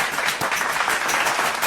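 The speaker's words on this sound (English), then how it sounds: "give them a round of applause" A crowd breaks into a round of applause, a dense and even wash of many hands clapping at once that holds steady and fairly loud for under two seconds, with no speech on top.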